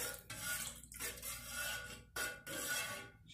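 A metal spoon scrapes and rasps against a pot while stirring a cornstarch-thickened broth for a mock madeira sauce, a continuous close grating texture broken by two brief pauses.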